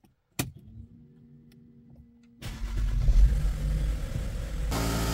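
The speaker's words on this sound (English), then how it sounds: "let's start up the car." A Mercedes car with Airmatic air suspension and newly replaced air springs and shocks starts up: a click and brief crank, then the engine catches into a loud, steady idle rumble that surges and settles.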